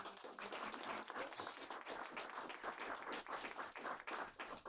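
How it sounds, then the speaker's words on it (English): A hall audience at an open data challenge presentation gives a round of applause, dense continuous clapping at a steady level throughout with no talk over it. "Can we get one more round of applause for all?"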